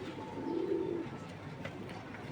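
A racing pigeon gives a soft, close coo near the start, followed by quieter rustling and faint chirps in a small loft.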